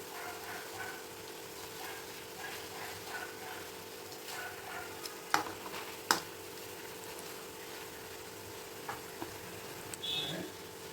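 Coated cauliflower florets frying in hot oil, a steady soft sizzle running throughout with a few sharp clicks and spatters, close and fairly quiet.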